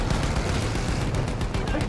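Dense, rapid bursts of gunfire in the video game Battlefield 1 crackle continuously, like automatic weapons firing without pause, loud and busy throughout.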